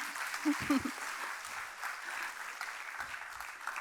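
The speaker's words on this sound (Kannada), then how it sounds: "ಒಂದು ಚಪ್ಪಾಳೆ ಪಕ್ಷಿಗಳಿಗೆ ತಟ್ಟಣ" An audience claps together at a Sanathana Dharma talk during an annual day event, with steady, moderately loud applause that carries on throughout and faint voices underneath.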